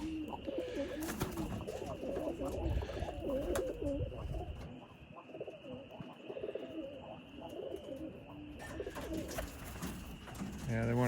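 Performance roller pigeons coo steadily in a loft, layered soft burbling calls from several birds filling the scene throughout, with a brief louder flutter near the end.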